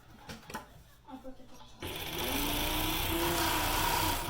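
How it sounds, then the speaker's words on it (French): A sewing machine stitches a straight seam on a lined knit toque, starting after a few soft handling noises and then running as a steady, close, whirring hum to the end. "Fait que je couds carrément en ligne droite."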